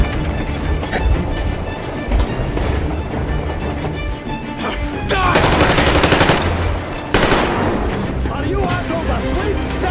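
Rapid automatic gunfire and shooting in the video game Metro Exodus, loud and sustained with dense bursts, while voices shout over the combat.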